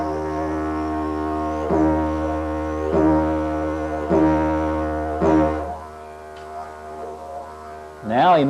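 Steady low didgeridoo drone broken by a series of sharp tongue-pull vacuum pops, roughly one per second, played close and alone with a wavering vocalised swoop at the end.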